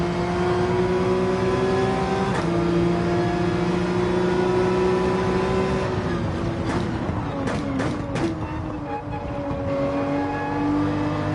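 Race car engine in Gran Turismo 7, a GR3-class machine in an online race, holding a steady droning note that shifts pitch around two seconds and again near six, with brief clicks late on; loud and continuous, no talk.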